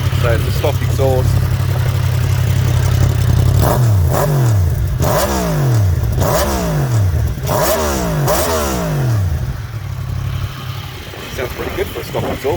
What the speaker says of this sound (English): Sounds pretty good for a stock exhaust, I think